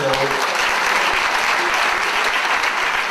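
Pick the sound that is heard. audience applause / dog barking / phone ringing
audience applause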